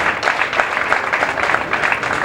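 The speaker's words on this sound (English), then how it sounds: "The crowd gives Tim a nice warm round of applause, congratulating him on his victory" A bowling crowd at a tournament final applauds the winner, a steady, dense, warm round of clapping that carries through the whole stretch with little talk beneath it.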